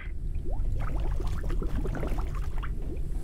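Water poured into a purifier in the survival video game Forever Skies: a steady, loud, bubbling gurgle of liquid running throughout, with no speech.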